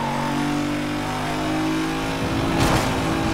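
A race car engine in the Need for Speed Most Wanted video game drones steadily at high revs, loud and continuous, with a brief surge near the end and no talk over it.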